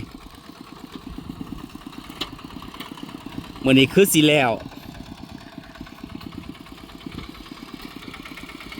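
A tractor engine plowing a rice field runs with a steady low chugging throughout, while someone speaks briefly over it in the middle.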